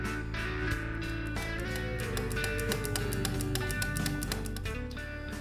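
The horn relay on an older Honda Astrea Prima Grand or Supra motorcycle snaps through a quick run of crisp clicks as the horn button is pressed repeatedly, close to the listener and over a steady background hum.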